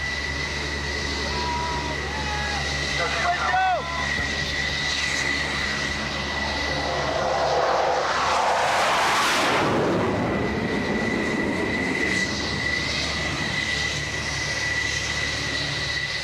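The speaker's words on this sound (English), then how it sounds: "The plane is waved off" An F-14 Tomcat jet waved off from an aircraft carrier landing, its engine roar swelling loudly as it sweeps past close by and then fading into a sustained whine over continuous carrier deck noise.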